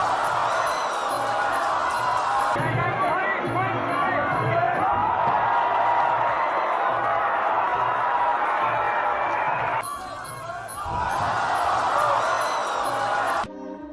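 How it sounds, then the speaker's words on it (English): A crowd cheering and roaring continuously throughout a match, with loud, dense shouting and whoops that swell and dip and never fall silent. "I keep hearing the fucking crowd cheering"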